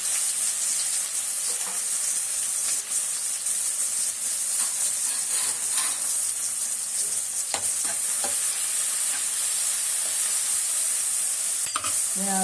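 Fennel seeds and onion sizzle and fry in hot oil in a home kitchen, a loud steady crackling hiss with occasional stirring scrapes, no voices.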